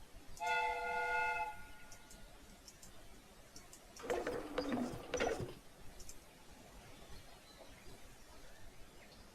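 In the game Sherlock Holmes: Crimes & Punishments, a faint whistle-like tone sounds briefly, followed a little later by a few seconds of sputtering, hissing bursts from a replica steam train chugging.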